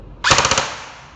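An E&C 855 airsoft BB gun fires one short, sharp burst of rapid shots, close and loud, ringing out briefly before fading to quiet.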